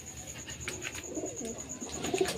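Pigeons of the Giribaz breed coo softly inside a coop, low throaty warbles rising toward the end, against a faint steady background hum.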